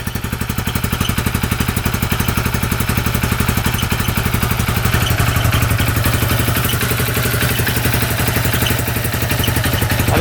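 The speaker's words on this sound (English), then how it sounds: "I think that's the exhaust squeaking," A $3,000 UTV engine idles steadily after being fired up, its exhaust squeaking, with a close, loud, even chugging pulse throughout and no talking.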